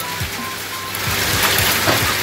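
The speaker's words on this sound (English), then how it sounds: "It's hailing." Hail falls outdoors as a dense, hissing wash with scattered low thuds of stones striking, growing slightly louder toward the end.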